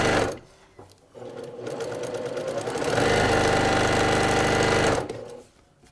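A sewing machine runs steadily stitching fabric along a drawn line for quilting, a fast even mechanical whir that speeds up midway and stops abruptly, close and loud with no talking.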